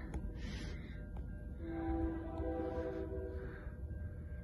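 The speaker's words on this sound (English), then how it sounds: "I hear a train coming." Low steady rumble of a train approaching in the distance in Mission, BC, with a faint tonal horn rising briefly midway.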